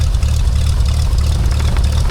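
Cessna Skylane engine idling on a ramp in a flight simulator game, a loud, steady low drone with an even throb and no voices over it.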